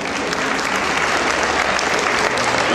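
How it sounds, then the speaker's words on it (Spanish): A crowd applauds Centro Cultural students before a guitar performance at a community festival, loud dense clapping that holds steady and even for the whole stretch. "Demos un fuerte aplauso para ellos"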